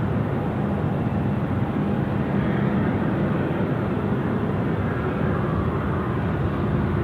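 A loud, continuous jet roar comes from an airliner climbing out steeply and passing close by at Sydney Airport at night in gusty wind. The broadband rumble holds strong and even throughout.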